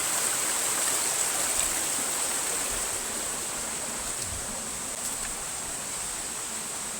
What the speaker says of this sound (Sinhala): මේ කන්දේ පාරේ වතුර එනවා